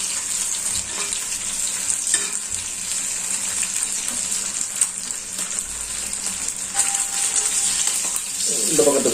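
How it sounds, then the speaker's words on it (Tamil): Fish frying in oil on a dosa griddle, a loud, constant sizzle and crackle throughout, with small clinks and rising spatter toward the end and no speech. "அடுத்த மீன் இதே மாதிரி போட்டுட்டு நீங்கள் வந்து எண்ணெய் இந்த மாதிரி ஊற்றிடுங்க."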